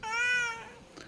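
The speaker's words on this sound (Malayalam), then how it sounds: "ഈ പൂച്ച എപ്പോഴും ഇങ്ങനെ കരഞ്ഞുകൊണ്ടേയിരിക്കും." A one-year-old cat lets out a single drawn-out, crying meow up close, fairly soft and alone, fading quickly.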